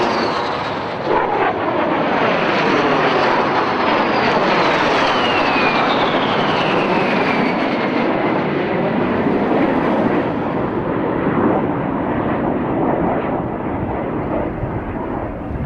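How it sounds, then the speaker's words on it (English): A formation of six jet warbird aircraft roars overhead during an aerobatic display, a loud sustained jet whine that sweeps in pitch as the formation passes, with wind noise and no talk. "we had a feature formation of 6 jet aircraft"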